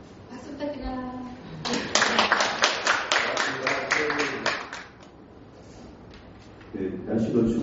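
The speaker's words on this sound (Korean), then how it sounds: "박수 부탁드립니다" A lecture audience at a hospital talk giving a short burst of applause, a cluster of claps in the middle between stretches of a speaker's voice heard before and after.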